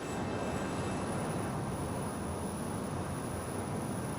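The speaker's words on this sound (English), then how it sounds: "I hear another airplane, I think, actually." A passing airplane in Microsoft Flight Simulator 2020 gives a steady, broadband engine roar with a faint high whine, holding at an even level throughout without any talk.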